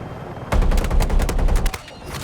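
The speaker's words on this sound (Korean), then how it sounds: "대공포 이렇게 잘 쏘는데" An anti-aircraft gun firing in Battlefield 6 lets off a rapid burst of heavy, booming shots, about a dozen evenly spaced reports lasting just over a second after a brief quiet start, loud and close.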